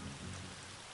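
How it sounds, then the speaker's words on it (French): Rain falling in the video game Atom Zombie Smasher, a dense, steady hiss of rainfall that fills the whole moment evenly. "Alors il pleut, c'est pour ça que les zombies sont ralentis."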